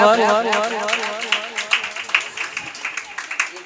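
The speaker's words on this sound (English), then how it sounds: "Momin Mariam, clap for her." Clapping breaks out for a first-prize-winning student at a Teacher's Appreciation Day celebration, scattered hand claps with distinct sharp hits under a speaking voice at the start.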